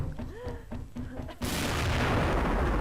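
In the Xshot shooter game, a few sharp shots and voices come first, then a sudden loud explosion bursts in and leaves a sustained roaring rumble to the end.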